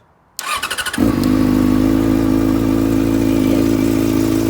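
A 2007 Yamaha FZ6N motorcycle engine cranks briefly with a few rhythmic starter pulses, then catches and settles into a steady, close idle.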